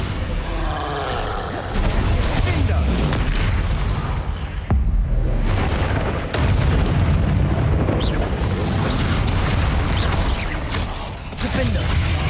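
Bombarda and Confringo explosion spells in Hogwarts Legacy produce loud, repeated booms and blasts with crashing debris, layered in rapid succession over battle noise.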